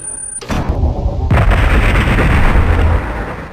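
A loud explosion bursts close by, followed by a second blast and a rumbling, crackling roar that fades away.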